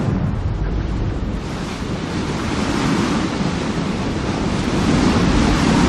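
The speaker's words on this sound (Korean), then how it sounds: "거센 바람이 불어닥치는 제주특별자치도" Strong wind blowing across Jeju Island, a loud, continuous roar buffeting the microphone with deep rumbling gusts that build slightly toward the end, without any voices.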